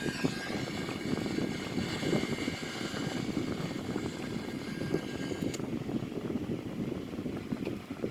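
Steady broadband roar of an Airbus A340-313X airliner climbing out just after takeoff from Zurich, heard as continuous engine and airflow noise from the cabin or cockpit, with no talking.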